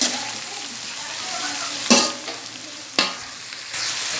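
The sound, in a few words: stir-frying chicken Mongolian in a pan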